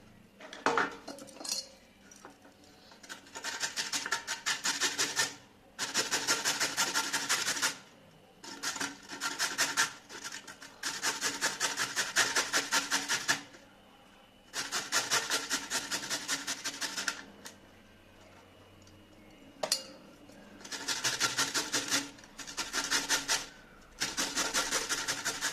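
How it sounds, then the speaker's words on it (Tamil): A carrot is rubbed against a hand grater in rapid, rasping scrapes. The strokes come in bursts of a few seconds each, separated by brief pauses. "கேரட்டை இந்த மாதிரி ஒரு திருவல் வச்சு திருவி ஒரு பக்கம் எடுத்து"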